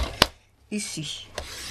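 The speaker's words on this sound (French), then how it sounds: "Et je vais couper avec mon massicot. Alors là, je coupe déjà" A paper guillotine (massicot) slices through paper for a handmade cheque book: two sharp, crisp chops about a second apart, with a brief spoken word between them.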